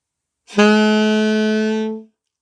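One sustained saxophone note, steady and clear, held for about a second and a half before stopping, played solo and close.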